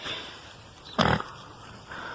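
Game pig from Haunted Horse and Friends gives one loud, short oink-like grunt near the middle, set against a quiet synthetic ambient background.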